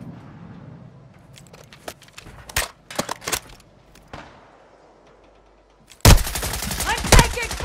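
Scattered bursts of gunfire crack through a Call of Duty Warzone 2 match, separated by quieter gaps and footsteps, then a louder sustained volley near the end.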